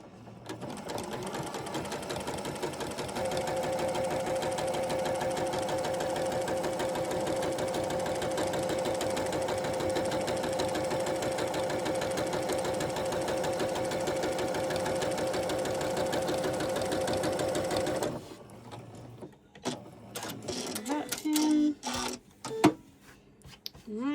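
A sewing machine runs steadily for about eighteen seconds, a close, even mechanical whir with a rapid needle rhythm, as it stitches a quilt block. It then stops, leaving scattered handling clicks and rustles.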